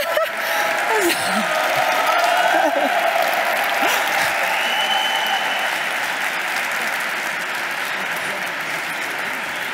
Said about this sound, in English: Well, all this cheering, not even Valentino Rossi last Sunday.